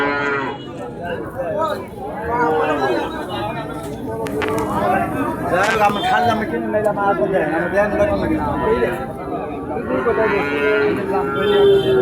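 Calves and cattle moo repeatedly at a busy cattle market, several close calls rising over a constant din of crowd chatter and other animals.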